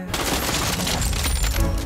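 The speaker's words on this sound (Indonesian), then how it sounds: "Jitu memberondong peluru ke dadanya." A dense, continuous burst of gunfire rattles for about two seconds as a sound effect in an action story where a man sprays bullets into a victim's chest indoors; the loud, steady shots blend into a heavy roar with no speech.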